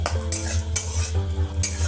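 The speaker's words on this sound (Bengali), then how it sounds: "কাজু কিশমিশগুলো হালকা হালকা ভেজে নিতে হবে।" Cashews and raisins fry in a wok with a steady sizzle while a utensil scrapes and clinks against the pan in quick, close stirring strokes.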